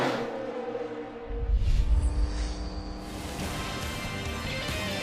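Race cars roaring at the Daytona 500, a dense engine rumble that swells into a loud close pass, then settles into a steady mass of engine noise from the field running together.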